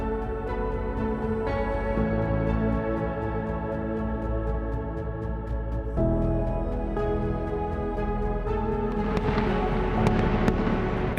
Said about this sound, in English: And then the fireworks start,